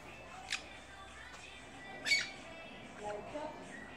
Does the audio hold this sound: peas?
no